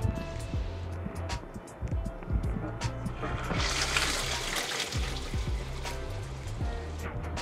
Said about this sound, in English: I just run water over them and clean them off.